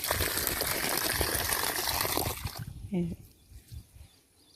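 A rush of water from a foot-washing tap at a village Bonalu festival pours loudly for a couple of seconds, then stops abruptly, leaving a few quieter sounds and brief voice-like bits.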